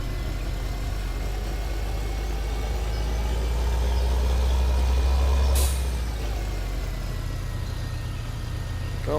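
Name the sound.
tractor engine straining in third gear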